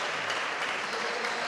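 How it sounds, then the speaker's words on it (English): A seated crowd rises into a standing ovation after a long professional squash match at Grand Central Station, with steady, dense applause filling the space at moderate volume and no voices standing out. "a standing ovation here from the crowd at Grand Central Station for a quality 79-minute match"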